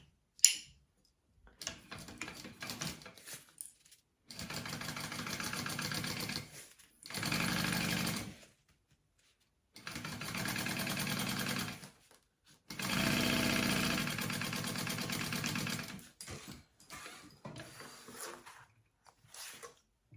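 A sewing machine stitches a seam across the bottom of a mini backpack in several bursts of steady whirring, with short quiet pauses between runs, close and clear.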